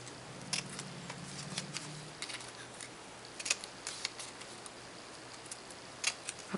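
Scissors snip through paper while orchid petals are cut out, making a scattered series of crisp, close clicks and small cuts. A faint low hum sits underneath in the quiet room.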